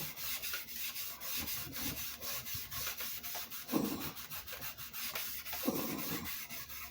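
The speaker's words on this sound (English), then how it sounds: "the more I rub it with still wool, with pressure on a finger, the better it is" Steel wool rubbed with finger pressure over the finish of a Les Paul-style guitar body makes a faint, continuous scratchy hiss in repeated back-and-forth strokes, close up and quiet.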